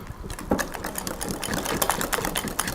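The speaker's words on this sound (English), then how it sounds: "I'm just going to whisk those in." A whisk beating vanilla bean paste into Boston cream cupcake batter in a bowl, a fast, steady scraping and clicking rhythm, close and fairly loud, heard alone.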